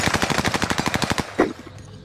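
Video game gunfire on the Caldera map: a rapid, evenly spaced burst of about sixteen close, loud shots, then a single heavier thud and a fading tail, with no talking.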